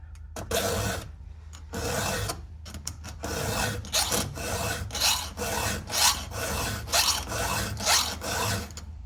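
Round file sharpening a badly damaged chainsaw chain, giving a steady series of close, rasping metal strokes pulled back in a quick, regular rhythm.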